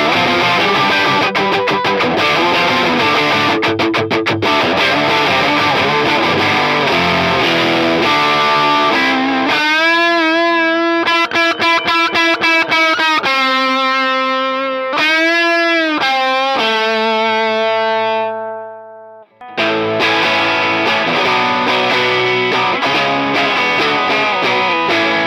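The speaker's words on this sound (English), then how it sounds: "And I love the drive on this. It's more distortion. It's quite ratty in its distortion." Guitar played through the drive section of an Into The Waves modulating echo pedal, giving a ratty, saturated distortion; dense strummed chords give way to ringing sustained notes before the heavy strumming returns.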